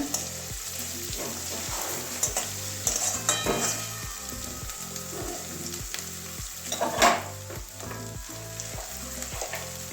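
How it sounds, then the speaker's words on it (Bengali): Cumin powder fries in oil while being stirred, producing a steady sizzle under repeated rhythmic spoon scrapes across the pan and a louder clatter near the end. "জিরে গুঁড়ো দিচ্ছি হাফ চামচ করে ভালো করে কষিয়ে নেব তেলে"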